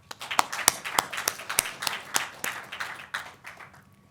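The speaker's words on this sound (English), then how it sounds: "Let's give them a hand of applause." Scattered clapping at a ceremony honouring Olympic and Paralympic medalists, sharp individual claps standing out at first before thickening into light applause that thins and fades out.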